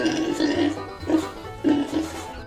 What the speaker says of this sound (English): Pigs say oink oink.